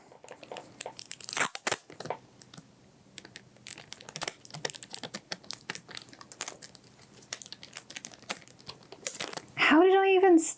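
Tape crinkles and crunches as it is pulled and pressed over a plaster on a finger, in short rustling bursts, with a longer stretching tear near the end.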